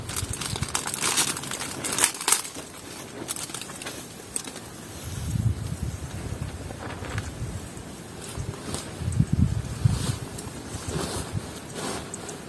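Strong wind gusts buffet the scene at the waterside while waiting for fish in a net, rising and falling in broad rushing waves, loud and steady with no talk.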